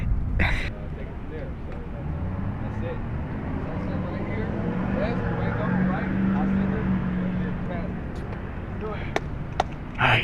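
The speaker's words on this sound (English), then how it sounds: "Sheesh, that bike is so loud. Got the straight putts on that shit." A loud custom electric-conversion bobber motorcycle with straight pipes rumbles nearby in a steady, continuous drone, with people talking over it before a group ride heads out.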